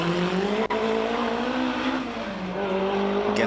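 Race car accelerating hard up the Simola hillclimb course, a loud, high engine whine that holds steady with rising and falling harmonics as it climbs through the gears.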